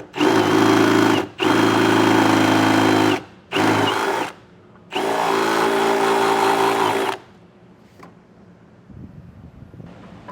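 Power drill enlarging a hole to half an inch for a grommet while installing a flat-tow brake system on a 2023 Jeep Grand Cherokee; several loud, close whirring bursts of a few seconds each with short pauses, then quiet.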